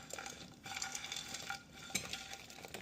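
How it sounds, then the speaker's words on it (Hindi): Pakoras going into a pot of simmering Punjabi kadhi, with soft stirring, bubbling and light sizzling close up and no talk. "इसमें अब हम पकौड़ों को डाल देते हैं"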